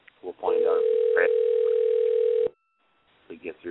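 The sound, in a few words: telephone ringing on a call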